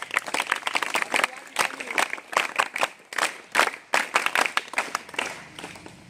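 An audience applauding at a public event honouring a rickshaw union at Fonda Ghat, Kankavli, with scattered, uneven claps and bursts of clapping close by for several seconds.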